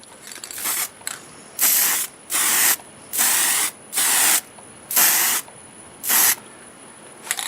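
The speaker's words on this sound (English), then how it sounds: "I'll be using spray on lacquer, probably 5 or 6 coats" Spray-on lacquer hisses from an aerosol can onto a segmented wood turning, about seven separate bursts of loud, close spraying with short pauses between them and no talk.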